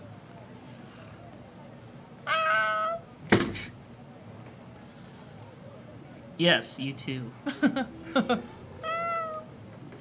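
A cat meows several times, short harmonic cries in two separate bursts, with a sharp thump between them and people talking nearby.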